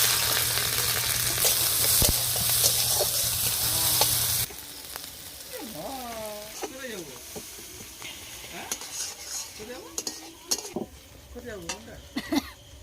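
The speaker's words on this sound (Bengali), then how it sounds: "পেঁয়াজ আর গোটা লঙ্কা একসাথে দিয়ে দেব।" Onions and whole chillies fry in oil in a wok, a loud steady sizzle for the first few seconds that then drops to a softer crackle with stirring and scraping, while a voice talks intermittently over it.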